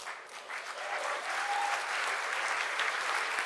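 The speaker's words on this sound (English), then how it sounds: "I'd like you to give a rousing applause to our facilities team." Audience applauding a facilities team at a closing ceremony, a dense, steady wash of many hands clapping throughout.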